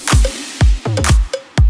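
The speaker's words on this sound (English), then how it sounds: "listen to this big snare doing interesting stuff right here." A big, heavily layered snare in a K-pop beat, several loud punchy hits with quick tails and a stuttered double hit in the middle, dry and close with nothing else around.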